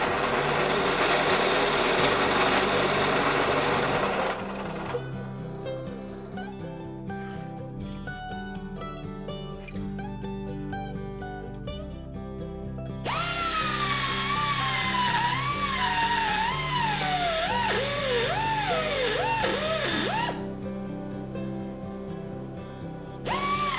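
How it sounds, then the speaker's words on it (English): Pneumatic die grinder fitted with a carbide burr hogging out steel on a small forged wallet knife: a steady high-pitched whine with gritty cutting chatter, broken by a few short pauses and pitch swoops as the load changes. "I'm using a carbide burr and a die grinder to hog out most of the material before hand filing"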